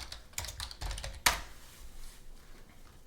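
Quick bursts of keystrokes on a computer keyboard, close up and fairly quiet, with a sharper clack partway through and then a soft near-silent tail.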